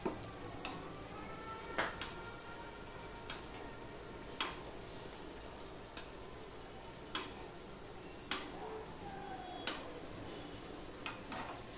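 A tiffin snack frying in hot oil, with oil spooned over the top, gives a steady sizzle broken by sharp metallic taps of the spoon against the pan at irregular intervals, close up and with no talking.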